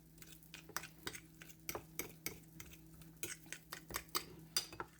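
Avocado being mashed in a bowl with garlic powder and a drop of apple cider vinegar, a fork clinking and scraping in a steady, uneven rhythm against the dish over a low background hum.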